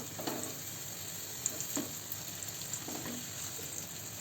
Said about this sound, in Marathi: इथे आपला तवा तापलाय, त्याच्यावर आपण तूप टाकले आणि तूप सगळीकडून पसरून घेतले। त्याच्यावर हे काप ठेवून घेऊया।